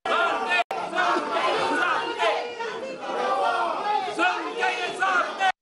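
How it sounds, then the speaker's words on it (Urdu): Council members in a town hall meeting chant slogans together, a loud, dense crowd of raised voices going on without pause, with a brief cut near the start. "45 منٹ پر مشتمل اجلاس میں ارکان نعرے بازی کرتے رہے۔"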